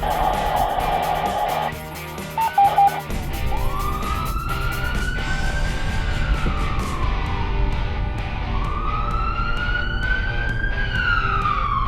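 A loud wailing siren rising and falling in long sweeps, close by, over the rumble of traffic, with a short burst of other tones at the start.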